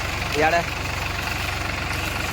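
A power weeder engine idles with a steady, low, rapidly pulsing chug that runs unchanged throughout, while someone speaks over it.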